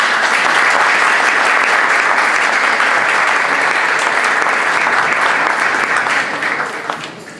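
A conference audience breaks into strong, sustained applause for an architecture lecturer, a loud dense wash of clapping lasting about seven seconds before tapering off.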